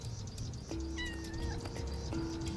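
Wild jungle cats gathered in outdoor brush, giving short, faint calls with a thin sustained tone and a wavering cry, set against quiet natural ambience without speech.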